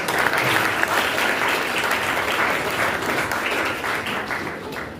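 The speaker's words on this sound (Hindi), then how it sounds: "तो तुम्हारे लिए दुआएं भी है और तालियां भी बहुत दूर से बजाइए।" A poetry program audience gives sustained, loud applause, a thick wash of many hands clapping steadily for several seconds, fading slightly at the end.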